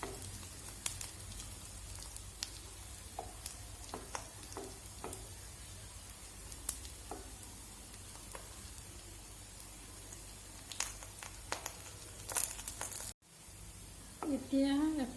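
Shewali (night jasmine) leaves fry in a pan with a steady low sizzle and scattered crackles and pops, a soft clunk near the end, and a brief voice over the sizzle near the close.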